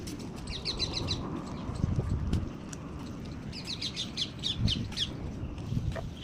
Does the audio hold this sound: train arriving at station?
no